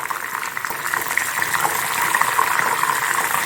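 Salted water is poured into hot oil where breadfruit chips are frying, giving a close, continuous hissing sputter with no talking.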